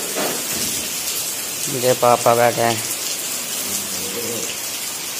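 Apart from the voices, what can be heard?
heavy rain outside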